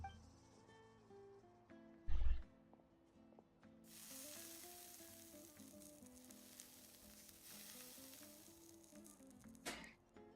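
Mushrooms sizzle while cooking on heated armor in Genshin Impact, a quiet frying hiss that swells after a brief thump and carries on under soft game music.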